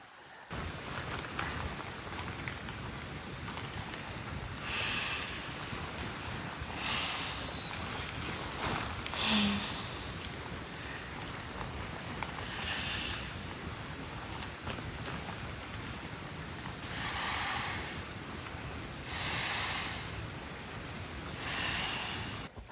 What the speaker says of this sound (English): there's also a nice creek running right here